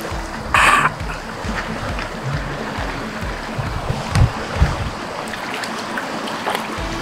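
River water flows steadily at a riverside camping spot, a continuous rushing wash close by. Brief splashes and faint voices sit over it.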